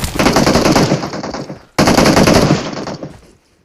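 An automatic weapon in PUBG on the Livik map fires two sustained bursts of rapid gunfire, loud and close, separated by a brief pause before the second burst trails off.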